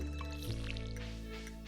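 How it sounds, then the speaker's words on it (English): In modded Stardew Valley, the dog's water dish is filled with a short, soft liquid splash and trickle, a brief wet pour sitting over steady game background music. "We can also give him some fresh water."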